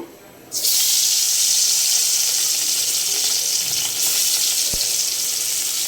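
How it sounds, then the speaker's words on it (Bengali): Loud, steady hiss of hilsa fish sizzling in hot oil starts abruptly after a brief quiet moment and continues without pause. "এই যে আমার তেলটা গরম হয়ে গেছে, এখন আমি যে মাছটি দিয়ে দিব।"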